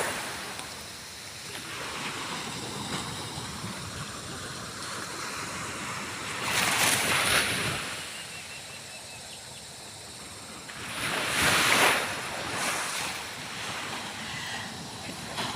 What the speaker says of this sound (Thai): เอาบรรยากาศทะเลมาฝากค่ะ